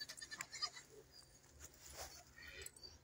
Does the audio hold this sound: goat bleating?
yes